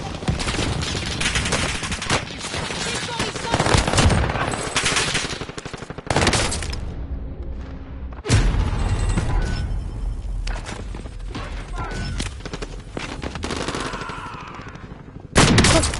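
Gunfire in Call of Duty Warzone: loud, sustained automatic bursts and rapid shots crowding nearly the whole stretch, broken by a couple of brief lulls before the firing resumes hard.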